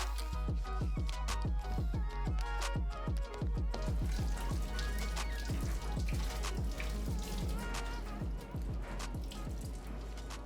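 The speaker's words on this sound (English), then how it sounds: "I'm gonna go to the sink and rinse both of these things out." A sink tap runs steadily while a shoe insole and laces from 2025 Black Toe Jordan sneakers are rinsed under it, with close, busy splashing and dripping throughout and no talking.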